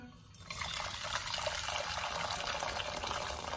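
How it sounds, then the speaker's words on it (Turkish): Boiled water pours into a pot on a stove, a steady splashing fill that starts abruptly after a brief quiet moment and continues evenly. "İçerisine kaynamış su ekliyorum."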